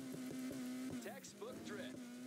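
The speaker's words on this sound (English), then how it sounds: "Textbook drift." A car drifts in the Need for Speed Heat racing game, its engine droning steadily while tires squeal in rising, wavering streaks; game voices talk over it.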